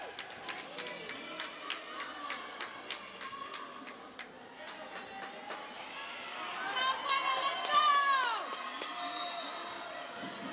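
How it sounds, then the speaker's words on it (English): A volleyball crowd in a school gym grows louder, with rhythmic clapping, stomping thuds and rising cheers and squeals near the end, under a commentator's talk. "Buena crowd starting to get loud"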